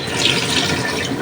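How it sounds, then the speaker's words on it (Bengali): Water pours from a vessel into a pot of small-fish curry cooking in a cooker, a short steady splashing rush, close and fairly loud. "পানি দিয়ে দিই"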